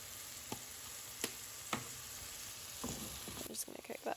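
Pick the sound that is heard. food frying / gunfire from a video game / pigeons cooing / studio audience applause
food frying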